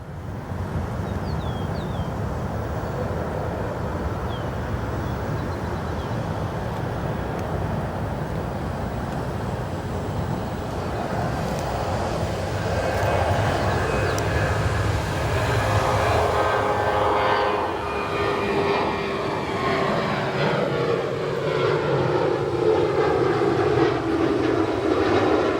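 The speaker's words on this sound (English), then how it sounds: "Another United 737, a very common sight here at O'Hare. This one departing 28 right." United Boeing 737-900ER departing runway 28 right at O'Hare, a continuous roaring jet engine rumble that swells louder as it passes, then a sweeping rise in tone late in the roll.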